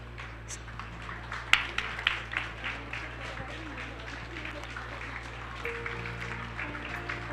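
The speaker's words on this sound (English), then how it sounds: "give a round of applause for our dignitaries" Audience at a moot court competition valedictory ceremony applauding dignitaries, with a few sharp claps rising into scattered, moderate clapping over a steady background hum, briefly swelling again near the end.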